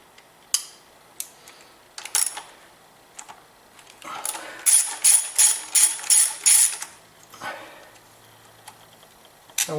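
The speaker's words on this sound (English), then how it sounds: "I won't bore you while I'm unscrewing all 10 of those" Ratchet wrench clicking in bursts while loosening 10 mm bolts and nuts on the engine cover of a 2000 Acura 3.2 TL, about seven quick ratcheting runs near the middle, close and moderately loud, with scattered handling clatter before and after.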